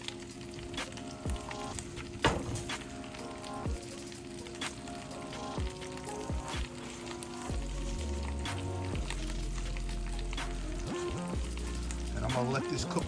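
Peppers and asparagus sizzle and crackle steadily in a hot pan, a continuous frying hiss with scattered pops and some stirring clatter, fairly close and moderately loud.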